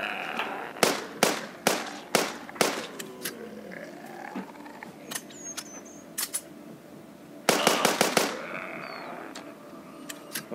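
Sharp, loud sniper rifle shots ring out one at a time in a regular rhythm, then a quick burst of several shots, with game sound effects faintly behind, in The Walking Zombies 2.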